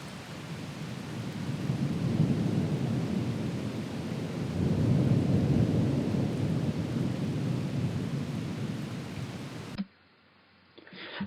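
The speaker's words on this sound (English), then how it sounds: "underneath, I added some thunder just because it just sounded really cool" Deep rolling thunder with steady rain hiss, continuous and full for about ten seconds as ambience beneath a lofi beat, then cutting off abruptly near the end.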